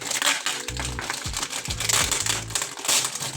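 Plastic packaging crinkling and crumpling as a Beyblade X launcher strip is pulled out during an unboxing, loud close rustles in irregular bursts with no speech.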